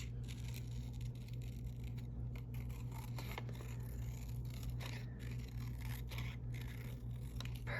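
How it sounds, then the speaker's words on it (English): Scissors cut paper in a steady, continuous series of quiet snips and scrapes, close to the microphone, as the paper is turned while cutting. "my scissors is not going to move as I steer this like a steering wheel"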